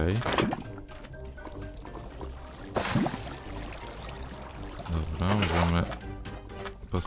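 Water placed and pouring in Minecraft, a steady liquid splashing and gushing sound throughout with a sharp burst near the middle, while a person talks over it.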